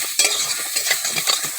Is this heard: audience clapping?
no